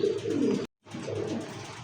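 Low, throaty pigeon cooing in steady runs, broken by a brief silent gap, with a sharper sound at the very end.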